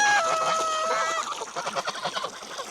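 Backyard hens, among them Beth, Buffy and Finnegan, cluck close by in a busy flock, with harmonic calls early giving way to rapid pulsing clucks near a water bowl.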